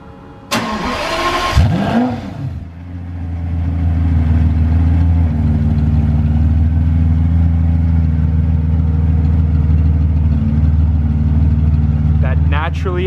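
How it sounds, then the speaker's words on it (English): A naturally aspirated V12 engine of a Pagani Zonda S Roadster cranks and fires on a cold start with a sharp revving burst, then settles into a loud, steady, deep idle that continues to the end. "Let's get a cold start and pull her out of the garage."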